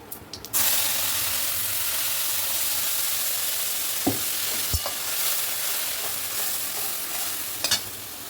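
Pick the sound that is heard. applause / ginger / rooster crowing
ginger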